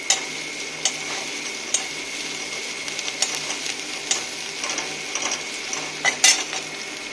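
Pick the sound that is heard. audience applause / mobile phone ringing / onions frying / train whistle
onions frying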